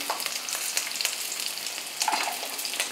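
Small onions and garlic frying in a pan for Kannada-style bottle gourd kootu: dense, steady close sizzling with light crackles and occasional stirring throughout.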